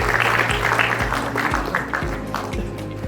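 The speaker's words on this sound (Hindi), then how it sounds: "तालियों के साथ स्वागत करेंगे" An audience at an Uttarakhand book launch claps to welcome the chief minister, a moderate burst of scattered hand claps over a low rhythmic hum, with no talk heard.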